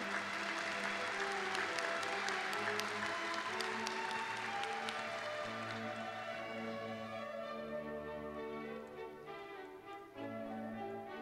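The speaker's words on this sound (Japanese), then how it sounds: "改めまして盛大な拍手をお願いいたします。" An auditorium audience applauds during the student awards at the Kanagawa University graduation and degree ceremony in March 2019, with dense clapping at first that gradually thins and fades.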